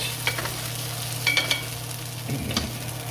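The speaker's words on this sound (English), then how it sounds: "Now we're going to add this to our potatoes and allow this to just about set." An egg mixture cooking over potatoes in a frying pan, with a quiet sizzle, a low steady hum and a handful of light utensil taps and scrapes.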